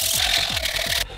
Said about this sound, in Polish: trzeba ją było potem wyszlifować papierem ściernym